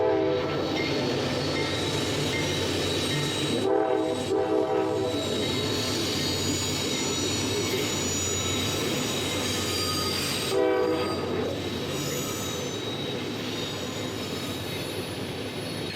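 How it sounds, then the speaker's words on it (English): A long coal freight train rumbles past at close range on Horseshoe Curve, wheels clattering steadily, with a couple of brief horn-like surges along the way. "I think we got ourselves a coal train."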